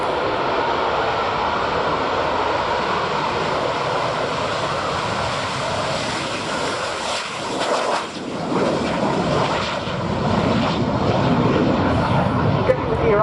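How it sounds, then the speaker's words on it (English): A Spanish Navy EAV-8B+ Harrier II jet makes a short takeoff roll at an air show, its loud jet roar building and shifting over crowd ambience as an announcer speaks. "It's an example of what they dub the EAV-8B+, Harrier 2, and it's on the roll"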